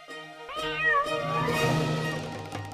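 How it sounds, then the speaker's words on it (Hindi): A cat meows in a long, drawn-out call that bends in pitch and holds for about two seconds, loud and close, with no talking over it. "काफी फुर्तीली बिल्ली।"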